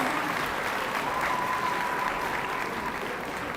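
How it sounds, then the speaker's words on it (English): A school audience applauds second-grade performers at a Founder's Day event, a steady even clapping that carries on at one level the whole time, with no voices over it. "Give them another round of applause."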